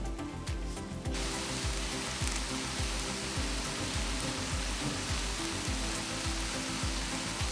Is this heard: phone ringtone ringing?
no